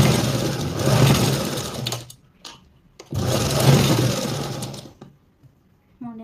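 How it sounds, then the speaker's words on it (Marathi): A sewing machine stitches a princess-cut blouse in two loud, steady runs of mechanical whirring, each stopping abruptly, with short bursts of handling noise between them and a brief voice at the end. "आता आपण याच्यावरती शिलाई जर मारली तर बरोबर आपला आकार येतो."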